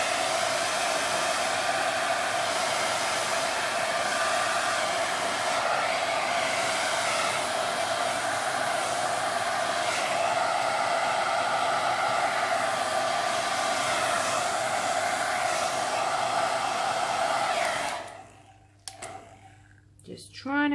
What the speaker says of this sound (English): I'm going to use my hair dryer